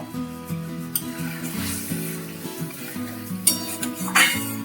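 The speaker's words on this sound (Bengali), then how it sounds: "দিয়ে এই মশলাটা আমি ভালো করে কষিয়ে নেবো" Spice paste sizzling and frying in mustard oil in a pan for Bengali tel koi fish, with a steady crackle under a music track and occasional clinks of a spoon stirring against the pan.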